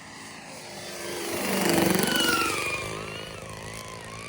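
A Hanger 9 Pulse XT 60 radio-controlled plane flies past outdoors, its engine's buzzing drone swelling as it nears, peaking with a rising-then-falling pitch sweep, then fading as it moves away.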